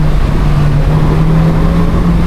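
A 2025 Polaris Slingshot R three-wheeler in Slingshot mode pulls hard under acceleration, its engine a steady loud drone with a low, constant tone throughout, no talking over it.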